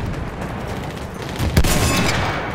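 A rocket gun fires in Battlefield 1 multiplayer: a sharp launch blast about midway over steady battlefield noise, with a lingering rumble afterward and no speech.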